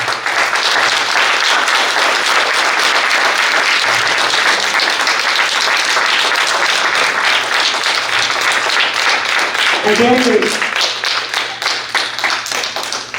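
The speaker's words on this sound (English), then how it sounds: "all of these claps, all of these appreciations" Sustained, dense applause and clapping from an audience at a Bhagavad Gita recitation event, loud and continuous throughout, with a brief spoken word partway through.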